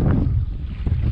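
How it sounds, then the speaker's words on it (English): Gusty wind buffets a kayak out fishing on open water, making a steady low rumble across the microphone for about a second with brief surges of louder roar. "It's just windy as all get out."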